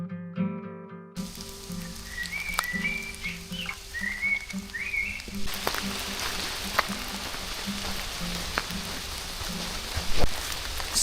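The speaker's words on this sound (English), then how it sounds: "It's raining a lot." Steady heavy rain in a forest hisses all around, with scattered louder drips and a faint whistling tone early on; no voices.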